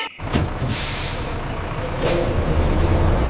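A bus air brake lets out a loud, sharp hiss that releases once, fades, then bursts again, with a low idling engine rumble underneath throughout.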